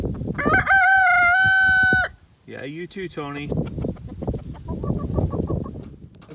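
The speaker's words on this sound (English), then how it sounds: "Morning, chickens." Backyard chickens and a rooster at morning feeding time: a loud, long rooster crow opens, followed by clucking and fowl calls, with someone speaking briefly over the birds.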